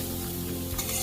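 Spiced masala frying in oil for a Bengali bhola fish curry, a continuous dense sizzle being stirred in the pan, steady and close with no voices.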